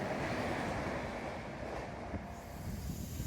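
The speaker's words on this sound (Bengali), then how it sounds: "এবারে আমাদের ট্রেন এসে গেছে" The Medinipur local train pulls into a station, a loud continuous rumble of wheels and wagons close by with a faint metallic squeal, filling the whole short stretch.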